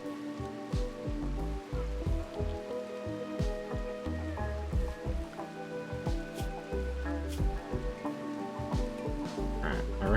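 Steady patter of foggy rain in the colony-building game Rimworld, a dense continuous wash of drops with scattered drips, layered over tonal in-game music and heard alone without talk.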